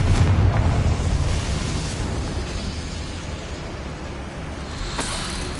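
A Confringo spell explodes in the game Hogwarts Legacy inside a goblin mine, a loud booming blast whose deep rumble rolls on and slowly fades, with a faint whoosh near the end.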